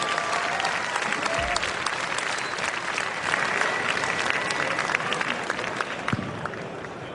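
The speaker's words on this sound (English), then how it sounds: "how about a big round of applause for Yellow for winning that first LT match" Sustained applause from a StarCraft 2 tournament audience, dense steady clapping from a crowd filling the hall for the whole stretch, loud and continuous with no speech over it.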